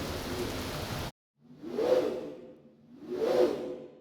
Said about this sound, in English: a procedural whoosh using the velocity at the tip of the sword